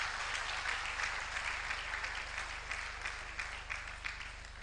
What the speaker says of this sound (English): A better round of applause for the Vice Chancellor